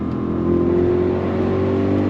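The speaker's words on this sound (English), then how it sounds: "Fast shift from that 8-speed automatic." An Audi RSQ8 performance SUV with an 8-speed automatic accelerates hard, its engine droning loud and steady with a slight rise in pitch, heard from inside without talk.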